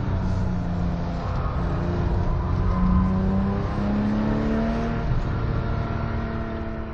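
Ferrari F430 sports car engine accelerating, a continuous strong engine roar with rising harmonic tones sweeping upward through the revs, steady and fairly close, with no voices.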